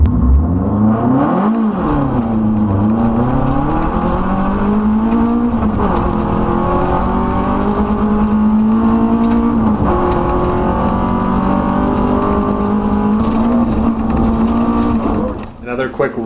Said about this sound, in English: It's amazing how much work goes into driving these cars, even on a long straightaway.